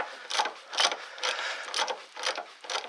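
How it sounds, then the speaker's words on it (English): Ratchet tightening a sway bar link nut in a cramped spot under a car, heard as about six close clicking bursts at a steady back-and-forth rhythm. "all we have to do now is go ahead and tighten the rest of this up here"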